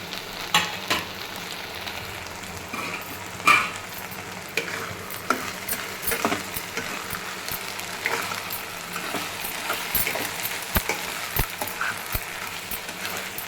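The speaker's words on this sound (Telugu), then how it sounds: "నూనె పొడి వేసుకొని ఒక 2 మినిట్స్ ఇట్లా వేయించుకున్నామండి" Ridge gourd and okra curry fries in oil with sesame powder, sizzling steadily the whole time, with scattered clicks and scrapes of stirring and occasional sharper taps.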